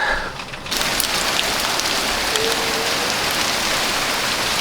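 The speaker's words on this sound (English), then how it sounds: "it's raining pretty hard, isn't it?" Heavy rain pours down steadily in a dense, hissing wash, loud and close, with no voices over it.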